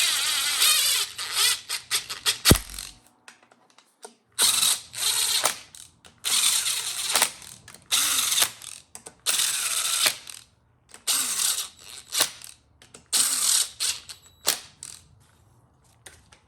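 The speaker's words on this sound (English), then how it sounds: "And then you can carefully run them down with impact." Impact wrench running bolts down on a GM 4L60E transmission during final assembly: repeated short bursts of rapid rattling hammering, each a second or two long, separated by brief silences, close and loud.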